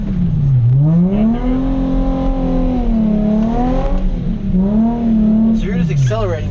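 A Nissan 350Z engine revs loudly and close while the car drifts on a wet road, its pitch rising, holding and falling in waves as the throttle goes on and off.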